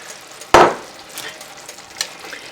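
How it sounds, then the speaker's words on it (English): Lamb hits a hot frying pan with one sharp, loud burst of sizzle that quickly settles into a softer, steady frying hiss, with a faint clink of cookware near the end. "We're gonna go ahead and get the lamb added as well."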